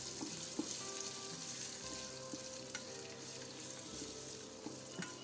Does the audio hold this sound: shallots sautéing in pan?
yes